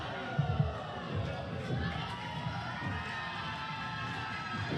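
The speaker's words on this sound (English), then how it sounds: "This crowd is electric." A wrestling crowd cheering and shouting at a match between Mariachi Montaña and Yung Money, a dense, steady roar of many voices filling the arena, with a few louder shouts early on.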